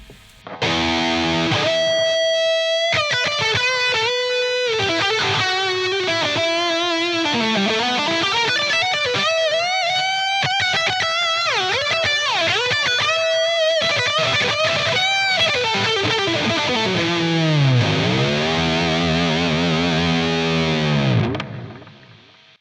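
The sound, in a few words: electric guitar solo tone, Marshall JCM 800 model on Line 6 Helix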